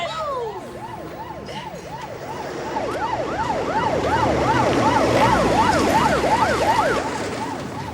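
An emergency siren wails in repeated rising and falling sweeps, growing gradually louder as it approaches, with traffic rumble underneath.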